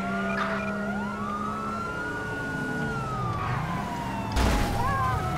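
Wailing police car siren from the GTA V LSPDFR game, sweeping steadily up and down over engine and traffic noise, with a brief louder burst near the end.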